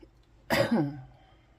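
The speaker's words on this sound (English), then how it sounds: "Excuse my cough." A single short cough, close and fairly loud, over quiet background.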